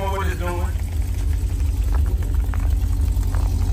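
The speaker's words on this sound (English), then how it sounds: "I can hear that cam doing what it's doing." A loud, rumbling drag car engine with a cam and full exhaust idles with a choppy, lopey exhaust note at a dragway, steady and close throughout, with a voice briefly audible at the start.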